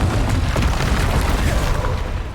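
A Confringo fire spell blast in a Harry Potter video game, a dense, booming burst of explosive energy that rumbles loudly through the whole moment amid ongoing battle noise.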